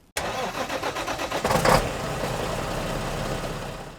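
An off-road Toyota truck engine cranks with rapid rhythmic turnover, catches, and settles into a steady, close, rumbling idle.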